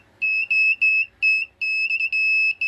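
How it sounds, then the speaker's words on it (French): Siren driven by a Light-O-Rama show controller during a light-display test, sounding as a loud, close, shrill electronic wail that pulses on and off in short uneven bursts, with nothing else audible. "ça c'est la sirène que je vous ai dit"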